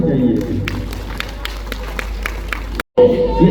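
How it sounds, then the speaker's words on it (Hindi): An audience on stage claps to welcome four people in a steady run of sharp, evenly spaced claps under crowd noise and talking. The sound briefly cuts out near the end. "इन चारों के लिए जोरदार तालियां बजाइए।"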